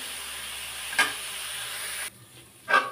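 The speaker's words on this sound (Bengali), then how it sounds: "আমি একটু পাতাটা সুন্দর করে ভাজি করে নেব ভালো মতো। এইভাবে নেড়ে চেড়ে ভাজিটা করে নেবেন।" Thankuni (pennywort) leaves are stir-fried in a pan, a soft hissing sizzle with two brief scraping stirs, the heat seeming to drop partway through, close by and fairly quiet.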